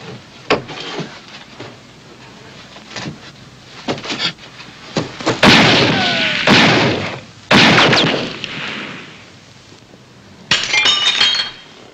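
Gunfire in a 1953 western town, loud sharp shots spaced irregularly across the clip, with a few bursts in quick succession and glass shattering and clinking between them; no one speaks.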